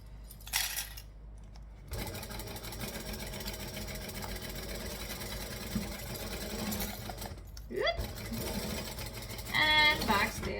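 A sewing machine stitching fabric runs steadily with a fast mechanical whir, stopping briefly and starting again, plus a few clicks and metallic clinks near the end, heard close and moderately loud.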